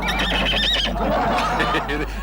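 A horse whinnies loudly and up close in a comic Hindi television scene, its cry rising and falling over about a second and then trailing off, over a steady low hum.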